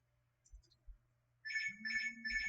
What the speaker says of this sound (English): I'm going to turn my phone off because it is ringing.